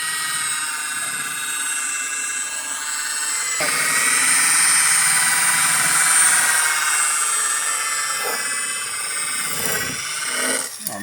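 A power buffing wheel spins against a yellowed plastic headlight, giving a loud, steady high-pitched whine with a grinding edge that shifts in pitch as pressure changes, close and continuous with no talking.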